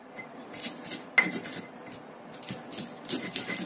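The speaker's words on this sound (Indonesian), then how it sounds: "Kita ulek dulu sampai halus semua bahannya." A pestle pounds and grinds ingredients in a stone mortar, giving irregular knocks and gritty scrapes with one sharper strike, close up and alone.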